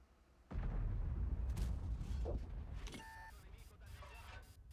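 A tank fires an armor-piercing shell in World of Tanks, a sudden heavy boom that rolls into a sustained low rumble, followed by faint impact sounds and a brief electronic tone, with a voice speaking over it.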